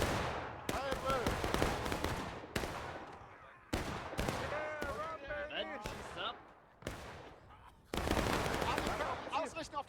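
Musket volleys in the Civil War game War of Rights on the Dunker Church map, heard as several sharp bursts of massed gunfire with ringing tails, spaced irregularly across the stretch.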